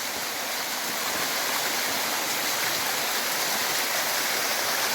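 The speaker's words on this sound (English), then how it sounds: "it's just a beautiful cascading little waterfall" A small waterfall cascades through New Zealand bush, a steady, close, broadband rush of falling water that stays even and continuous throughout.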